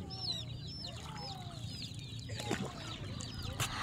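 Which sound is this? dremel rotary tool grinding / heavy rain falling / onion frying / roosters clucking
roosters clucking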